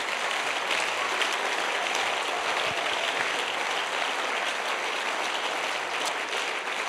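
Congregation applauding in a church service, a dense, steady wash of clapping hands filling the space for about seven seconds without a break.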